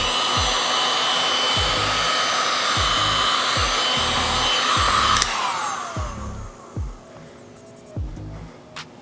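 A heat gun warms vinyl wrap on a car hood with a loud, steady blowing roar and soft rhythmic thumps beneath it. The blower cuts out midway, leaving a few faint handling bumps.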